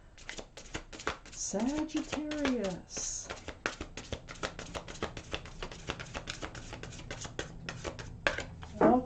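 Tarot cards being shuffled in a rapid run of crisp riffling taps from start to finish, with someone speaking over part of it.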